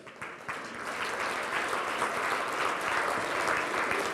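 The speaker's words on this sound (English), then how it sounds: "now give yourselves a round of applause." An audience of cluster quality leads in a primary care meeting room applauds, a steady dense burst of clapping from many hands that swells in at once and holds at full strength throughout.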